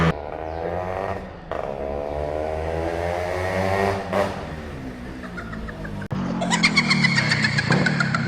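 A rebored Yamaha RXZ 5-speed motorcycle with heavy compression runs nearby with a steady droning exhaust. It swells into a brief rev midway, then shifts abruptly to a louder, rougher tone near the end.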